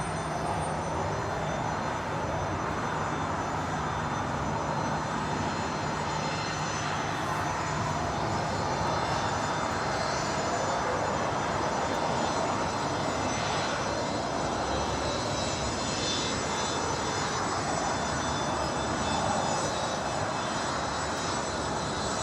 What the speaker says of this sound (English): they're bringing the Emirates 777 over here to the south side